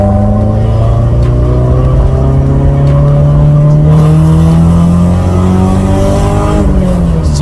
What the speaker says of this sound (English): I'm also going to check the VTEC is engaging.